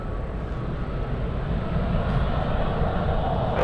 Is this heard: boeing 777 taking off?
yes